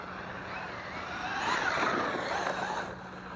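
A Traxxas Maxx 3S RC car's electric motor whines as it accelerates, a steady mid-to-high drone that swells to a peak midway and then eases off, with no talking.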